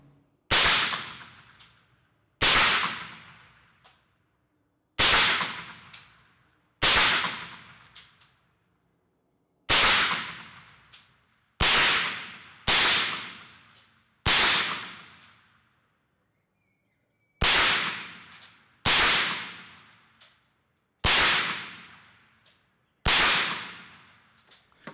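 Single shots from a Smith and Wesson 15-22 .22 semi-automatic rifle on a range, about a dozen sharp loud cracks fired slowly at irregular intervals, each with a short decaying tail, no talk.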